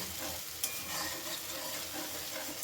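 Masala with cashews and a little water being sautéed for Maharani bhetki fish curry, a steady close sizzle with stirring scrapes throughout, no talking.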